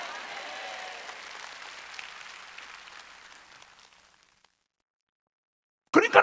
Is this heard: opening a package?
no